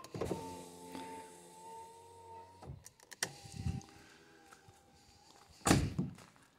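A car's driver-side power window lowering, a steady electric motor whine lasting a few seconds, followed by a stop and a few clunks and thuds from the door.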